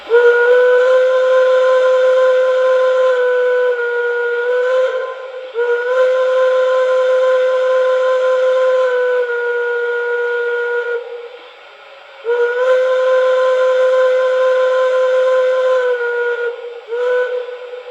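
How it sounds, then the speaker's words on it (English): A model steam locomotive whistle (MTH Shay) blows in long, steady, multi-toned blasts, loud and near, with brief pauses and short toots between them. "let's check out that smoke and whistle"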